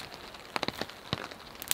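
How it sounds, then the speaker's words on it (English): Rain in the Canadian Rockies patters steadily on a nearby surface, with scattered sharper drops tapping over a soft continuous hiss. "we've just been subjected to this rain nonstop for 2 weeks"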